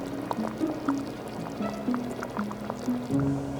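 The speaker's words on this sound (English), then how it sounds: "Oh, look at the red beans and rice cooking now." Red beans and rice with smoked sausage simmering in a pot, a soft continuous bubbling and liquid burble with faint gurgles and drips, close and steady with no talk.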